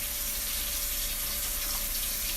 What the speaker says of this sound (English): I'm going to add a little bit of water, hot water